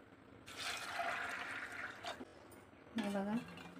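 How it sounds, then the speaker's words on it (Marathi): Water is poured from a vessel into a pressure cooker holding lentils in a home kitchen, a short rushing splash followed by a lighter second pour, faint and close, with brief talk between. "आता याच्यामध्ये पाणी टाकते"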